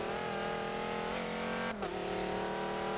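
Le Mans race car engine running rough and unhealthy in a racing game, a steady, loud droning whine that holds a constant pitch, briefly dipping near the end before resuming.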